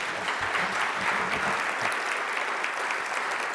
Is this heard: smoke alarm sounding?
no